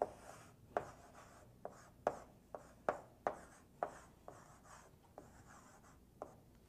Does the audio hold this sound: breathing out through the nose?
no